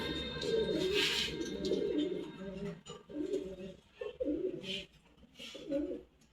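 Pigeons at a loft coo in repeated low, throaty phrases close by, with birds layered over one another almost continuously and a few brighter calls breaking through.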